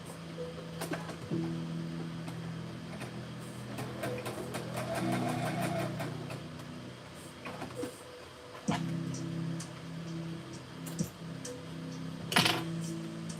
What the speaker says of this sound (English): I'm sewing the front bodice to the front bodice lining.